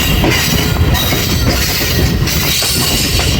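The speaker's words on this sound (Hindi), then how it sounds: "पे अप्रोच बना रही है 14 डाउन अवाम एक्सप्रेस" The 14 Down Awam Express passenger train rolls into a station on the Attock–Rawalpindi line, with a loud, steady rumble of railcars and wheels clattering over the track and no talk.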